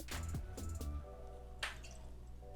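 Aberlour A'Bunadh sherry-cask Scotch whisky poured from the bottle into a glass, giving a few soft, close glugs and liquid splashes that are quiet and unaccompanied by talk.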